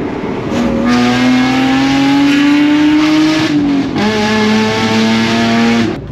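A BMW E36 325i with a new stainless exhaust manifold revs loudly and close, its engine note rising steadily in pitch, dropping briefly, then holding a raised, buzzing tone.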